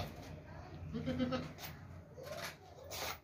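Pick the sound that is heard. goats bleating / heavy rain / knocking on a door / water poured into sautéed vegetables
goats bleating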